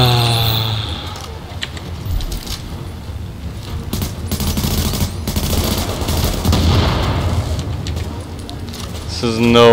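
Gunfire from a hard-kicking gun in The Division at the Hudson Refugee Camp, with turrets nearby, heard as rapid shots and bursts under near-constant talk from a player.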